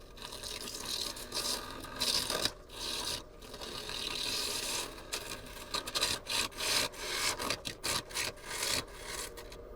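A wood lathe spins at about 625 rpm as a tool cuts a winged wooden bowl, giving a raspy scraping that comes in uneven bursts and short pauses.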